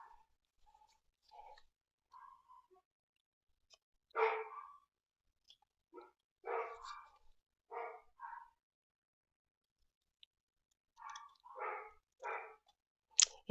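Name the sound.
dogs barking indoors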